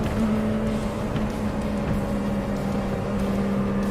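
IndyCar race cars from a classic Indy 500 racing video game idle along at pacing speed before the start, giving a steady, loud engine drone with a constant hum and no talk.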